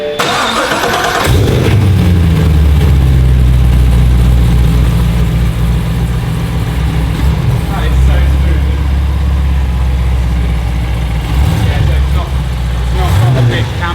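A V8 car engine with a stock cam, an LT4 in a BMW E92 M3, cranks and catches, then settles into a loud, deep, slightly lumpy idle that rumbles steadily close by, with voices faintly underneath.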